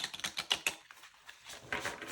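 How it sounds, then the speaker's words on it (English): Close, rapid papery flutters and snaps as a thick tarot deck is riffled together, coming in quick uneven bursts with a brief pause, no voices. "Let's see how this going to shuffle like that."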